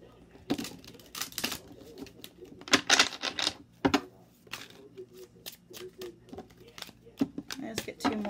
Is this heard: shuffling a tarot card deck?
yes